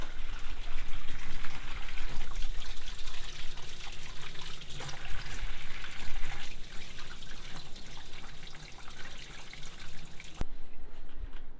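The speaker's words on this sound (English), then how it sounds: "I'm just gonna fill it up with lukewarm water." Lukewarm water pours steadily from a tap into a plastic spray bottle, a continuous close trickling splash that runs unbroken for about ten seconds before cutting off abruptly near the end.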